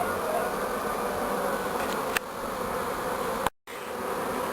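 Honey bee swarm moving into a new hive, a dense continuous buzzing hum of many bees close by, steady throughout with a brief dropout near the end.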